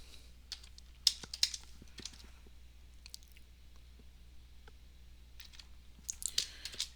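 Keys clatter on a computer keyboard in short irregular bursts, quiet and close, with pauses between clusters of taps and a busier flurry near the end.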